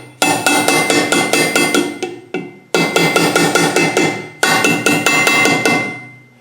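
Hammer tapping a workpiece snug into the clamp of a Colchester 17-inch lathe, three bursts of rapid metallic taps with short pauses between, loud and close, no talk.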